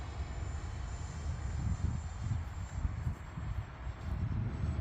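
FMS 80mm F-86 Sabre RC jet flying overhead on its maiden flight, its ducted-fan whine a steady outdoor rush with mild wind buffeting and no speech.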